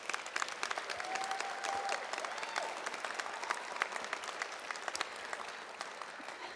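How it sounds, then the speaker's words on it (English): A graduation crowd at Stark State College applauds at a distance in a large hall, a sustained patter of many hands with scattered sharper claps and faint whoops, fairly quiet overall. "Graduates, let's give a round of applause to your support system"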